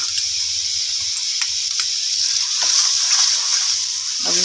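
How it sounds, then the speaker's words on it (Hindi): Garlic paste sizzling in a pan with lightly browned onions for chicken kaleji masala, a loud steady close hiss with a faint low hum and no talk. "अब इसमें लहसुन का पेस्ट ऐड कर दें।"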